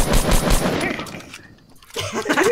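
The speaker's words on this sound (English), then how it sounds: "He thinks somebody else is shooting at him." Rapid gunfire bursts crackle in a Fortnite match, loud clustered shots that fade into a brief lull before more sharp game sounds and a short voice return.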